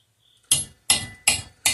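A homemade hammer, an old hammerhead welded onto a piece of pipe, strikes four sharp metallic blows in a steady rhythm, each a loud close clang that rings briefly before the next.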